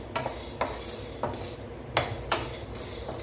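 Spice premix for a brinjal kuzhambu powder dry-roasting in a pan until reddish, with repeated metal spatula scrapes and clinks at a steady rhythm over a faint sizzle.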